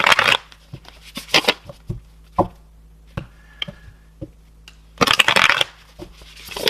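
A tarot deck is shuffled by hand in bursts of close, crisp riffling and flicking, with quieter taps and card handling between the bursts, no talk.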